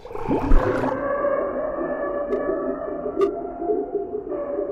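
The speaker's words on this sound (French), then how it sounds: "Ouais, une baleine, ouais." A recorded whale vocalization plays as long, wavering tonal moans and calls with a few faint clicks, steady and resonant throughout, with no talk over it.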